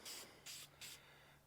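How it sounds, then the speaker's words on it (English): Cheap white spray paint hisses from an aerosol can onto an Arctic Cat Ramrod frame in three short, close bursts separated by brief pauses. "just get one coat of this cheap white spray paint on this thing"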